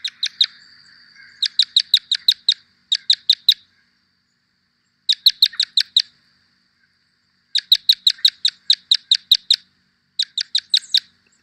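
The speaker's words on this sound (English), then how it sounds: "a type one red crossbill recorded in New York" Type 1 red crossbill recorded in New York gives repeated bursts of sharp, clear kip calls in quick rhythmic clusters, loud and close, separated by short silent gaps.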